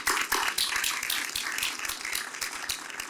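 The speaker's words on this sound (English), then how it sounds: "let's give this panel a round of applause" A conference audience gives a senior cyber leaders' panel a round of applause at the AFCEA event, with dense, steady, nearby clapping and no voices.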